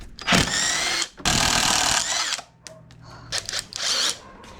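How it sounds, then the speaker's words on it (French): Small portable electric impact wrench driving a 13 mm socket, two loud sustained bursts of rapid hammering whir followed by shorter, quieter pulses and clicks, close up with no talk. "Depuis le temps que je voulais une petite choqueuse électrique que tu peux emmener partout."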